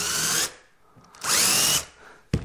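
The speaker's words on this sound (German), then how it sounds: "Jetzt arbeite ich nur die Löcher nach, wo die Schrauben versenkt sind." Power drill countersinking screw holes in an 1890 wooden entrance gate under restoration, two loud high-pitched whining bursts of about half a second each, then a short sharp knock at the end.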